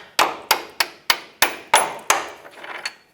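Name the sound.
hammer knocking bolt out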